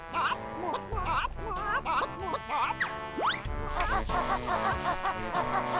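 Heggie the Hen, a hen character in the Banjo-Tooie video game, clucks in a rapid chatter of short squawks and warbles over busy game music, with one rising squeal midway.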